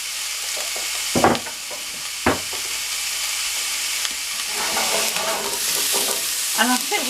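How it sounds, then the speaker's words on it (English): Peppers, tomatoes and garlic tossed into a hot pan with leftover sausage hiss in a loud, steady sizzle, with a couple of sharp bursts as they hit the oil and later scraping stirs. "So now I'm going to add the peppers, tomatoes and the garlic."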